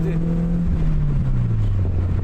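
A petrol engine in a Peugeot 306 S16 revs and then slowly drops back, a steady low drone whose pitch sinks gradually over a couple of seconds, close and fairly loud.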